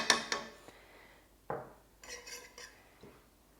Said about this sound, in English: we're just going to saute that just a little bit until our onions start to soften